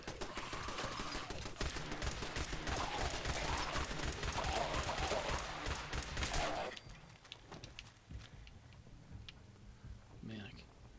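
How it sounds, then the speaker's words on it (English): Enemy gunfire in the post-apocalyptic video game Fallout 4 at a National Guard training yard, loud dense bursts of automatic shots for about seven seconds, then cutting off to quieter scattered sounds as someone talks faintly. "why are you shooting me for?"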